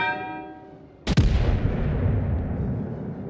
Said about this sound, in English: People are still shooting over him.